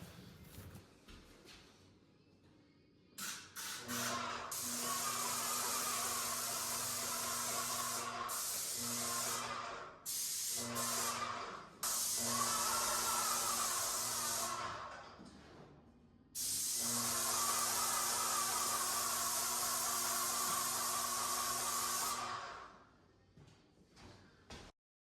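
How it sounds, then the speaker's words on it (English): An old paint sprayer with a tip that had been clogged sprays wood primer in long, loud, steady hissing bursts, about three main runs with short stops and brief spurts between them. The motor hums underneath the spraying. "I haven't used the old paint sprayer for a while, and the tip was clogged up right off the bat"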